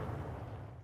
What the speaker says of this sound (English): Ukraine woke to explosions around the capital, Kiev.